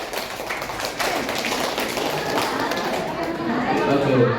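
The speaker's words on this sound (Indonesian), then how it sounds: "bisa tepuk segitiga dulu untuk mengakhiri kegiatan kita" A group of participants performs a tepuk segitiga clapping routine at the close of a school activity, with rhythmic taps and claps running steadily throughout over a dense, chattering background of voices.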